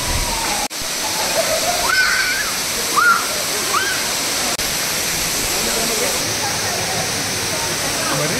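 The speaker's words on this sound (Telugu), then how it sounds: "అసలు ఫైనల్లీ మేము రీచ్ అయ్యాము సువాత్ వాటర్ ఫాల్ కి." Steady broadband roar of a waterfall in Ubud, Bali, with water pouring continuously and a few brief faint vocal calls rising over the rush.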